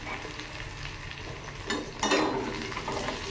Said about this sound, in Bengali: তো এখানে আলুটা আর পেঁয়াজটা একবারে জিরে ফোড়ন দিয়ে একেবারে ভেজে নিচ্ছি আলুটা।